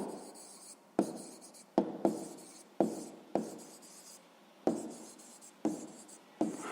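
Pen or pencil writing an answer by hand on paper during a sixth-grade math exercise: quiet scratchy strokes with sharp taps between them, close up, alone without talk.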